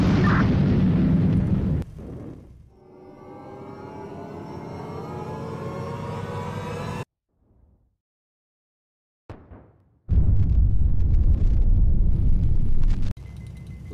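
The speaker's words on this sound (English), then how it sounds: "I'm going to send a missile after them" In the HighFleet game, a missile launches against missile carriers: a loud booming blast, then a long rising whoosh of the rocket, a brief silence, and a second heavy rumbling burst that cuts off abruptly.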